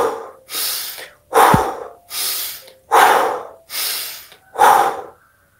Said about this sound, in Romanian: Cea de-a doua respirație este respirația Wim Hof, varianta cu inspir activ pe nas, expir activ pe gură.